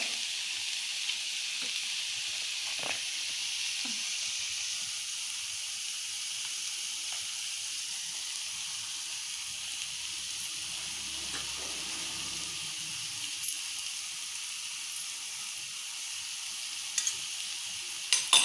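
Paneer roll filling with a spoonful of tomato ketchup sizzles steadily in a pan, a continuous soft frying hiss with a few faint spoon taps and stirring sounds. The end brings some sharper clicks.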